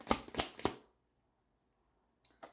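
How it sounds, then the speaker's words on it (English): Tarot cards being shuffled by hand, three quick close riffling bursts, then a pause of near silence and two more short shuffling sounds. "Let's get another shuffle here."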